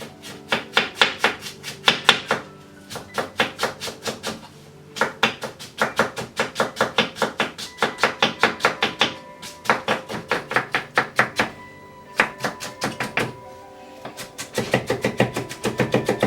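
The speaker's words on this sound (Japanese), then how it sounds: "玉ねぎもみじん切りにします" A knife taps rapidly on a cutting board, mincing an onion in bursts of quick chops separated by short pauses, close and crisp.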